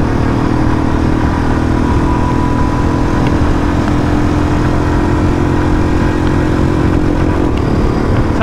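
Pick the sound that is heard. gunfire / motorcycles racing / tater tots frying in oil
motorcycles racing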